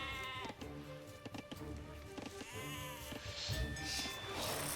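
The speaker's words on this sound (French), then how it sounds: "Alors, attention, il y a beaucoup de moutons, ils sont loin." Sheep bleating in Age of Empires II DE, several distant bleats rising over game music and ambient sounds, repeating throughout.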